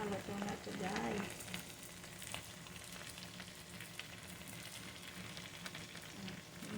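Barbecue chicken frying in a kawali, a faint, steady crackling sizzle with a slightly busier burst near the start, heard close but quiet throughout.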